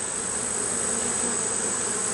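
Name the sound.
honey bees buzzing in a hive during inspection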